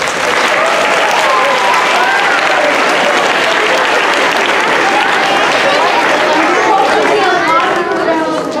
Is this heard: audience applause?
yes